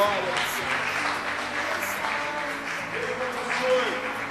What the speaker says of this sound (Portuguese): Mais uma vez, aplaude a Ele forte, que é para Ele.